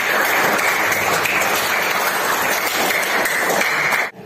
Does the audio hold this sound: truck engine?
no